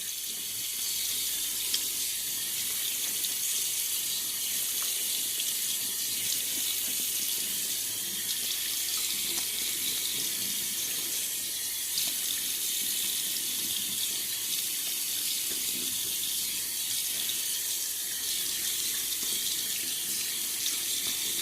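A bathroom tap runs steadily for the whole stretch as stubble is wetted before shaving, a constant close splash of water into a sink with no talking.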